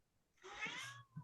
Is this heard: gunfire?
no